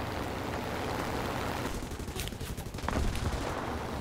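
Spitfire Mk.1 .303 machine guns firing in War Thunder, a fairly faint rattling burst of gunfire under engine drone, with a louder stretch of shots near the end.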